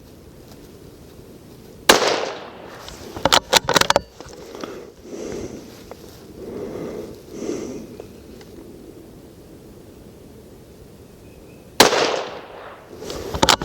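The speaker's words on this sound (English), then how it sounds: "I'm going to go ahead and shoot 5 more at the leprechaun on the left." Sharp rifle shots from a Savage 93 in .17 HMR firing Hornady 17 grain loads at a range target: a single loud crack, a quick cluster of three or four, then another crack near the end, with quiet outdoor background between.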